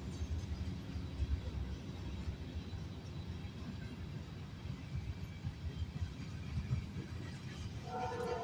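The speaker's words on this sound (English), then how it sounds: "Loaded coal train." A loaded westbound CSX coal train rolls past in McKeesport with a steady, rumbling drone of cars on the rails. A faint horn tone rises briefly near the end.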